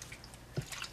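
A doll is lowered into a bath of water mixed with Woolite detergent, giving one soft, brief splash against a quiet room background.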